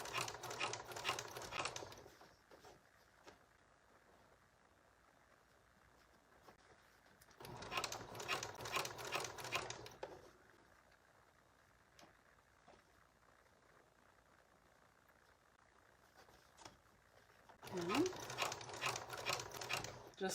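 A home sewing machine stitches a flat felled jeans seam in three loud bursts of rapid, buzzing needle strokes, separated by quiet stretches with soft handling noises as fabric is adjusted.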